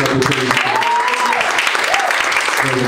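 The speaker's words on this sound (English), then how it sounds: "give her a hand clap of praise" Applause at a church Black History program, a continuous crowd clapping close and loud, with voices and cheers rising through it.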